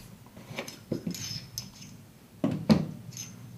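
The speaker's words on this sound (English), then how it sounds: "Ground spike goes through the nut and screws back into the top." Tripod ground spike threaded through the nut and screwed into the top of an APO TACT3 tactical tripod: scattered small metallic scrapes and clicks, a few sharper taps near the end, close and quiet.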